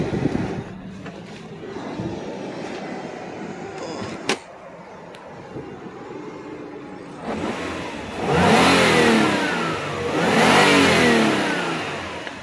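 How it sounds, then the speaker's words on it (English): A 2003 Infiniti I35 with 86K miles idles quietly at first, then revs up sharply twice in close succession. A single click is heard partway through. "Listen to the motor."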